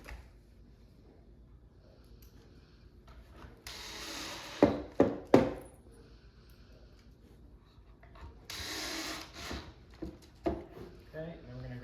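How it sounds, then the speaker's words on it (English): Pocket screws driven into the wood of a farmhouse shoe bench, with bursts of a power drill whirring and a few sharp knocks and clunks, close by, while a person talks in between. "Install the pocket screws."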